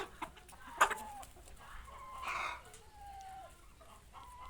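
A rooster for sale clucks and crows in a quiet farmyard, short sharp calls and a drawn-out crow, fairly faint and distant amid low background noise and no talking.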